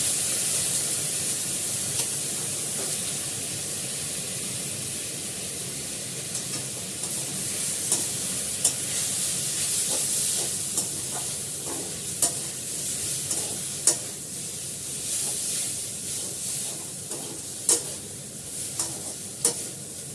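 Chow mein noodles stir-fry in a hot pan with a steady close sizzle, broken by scraping stir strokes and sharp clicks of a utensil against the pan, and no talk.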